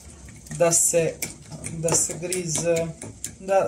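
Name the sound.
whisking semolina dumpling mixture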